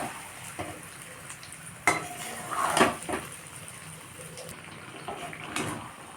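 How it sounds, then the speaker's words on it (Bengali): Spice paste for raw mango pickle stirred and fried in a pan over medium heat: a quiet, steady sizzle broken by occasional scrapes and clinks of a spoon against the pan. "মিডিয়াম আঁচে আমি মশলাটাকে ভালো করে কষে নেব,"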